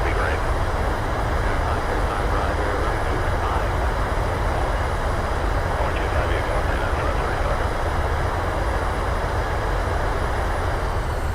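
Airliner thrust reversers on landing in Microsoft Flight Simulator, a loud, dense and constant engine roar sustained at full strength through the whole stretch, with a voice talking over it.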